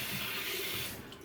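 Warm water runs from a tap for shaving in a steady hissing stream that eases off near the end. It sounds close and fairly quiet, with no voices.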